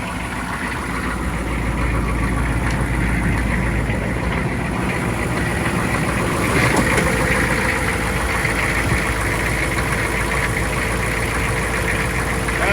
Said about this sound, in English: And it's a diesel engine